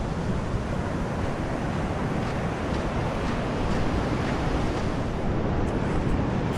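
Steady rushing surf washes onto the beach at Point Lookout, a continuous broad roar with wind buffeting the microphone and no distinct breaks or voices.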